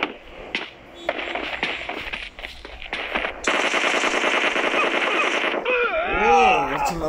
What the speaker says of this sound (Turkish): Neyle sıkıyorsun lan? M4 lan.